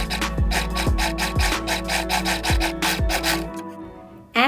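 Sewing machine stitching a bust cup with fusible fleece, a fast rhythmic mechanical chatter in repeated bursts, fairly close and steady, stopping abruptly with a final knock.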